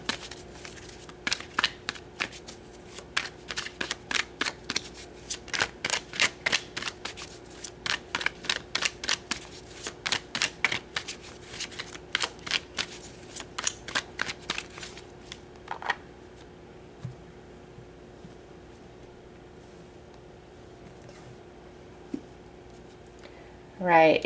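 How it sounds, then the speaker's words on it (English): Tarot cards are shuffled in quick, crisp riffling bursts, repeated many times close to the microphone for about fifteen seconds before things fall quiet. "Okay, so let's pull some tarot."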